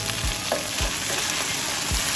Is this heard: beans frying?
yes